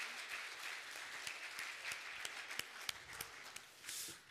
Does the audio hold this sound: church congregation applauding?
yes